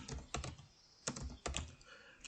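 Typing on a computer keyboard, several quick bursts of keystrokes separated by short pauses, close and fairly quiet, with no talk.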